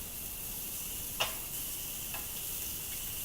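Fillet steak on a grill gives a soft, steady hiss close by, broken by one sharp tick or tap and a fainter one later, with no voices.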